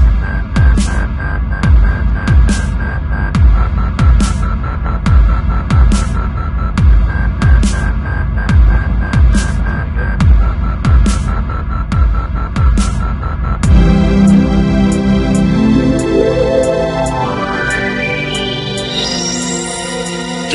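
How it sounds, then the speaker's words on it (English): A loud, throbbing dubstep wobble bass pulses under a steady beat in a bass drop, then a rising sweep climbs sharply in pitch toward the end. "And there's your bass drop."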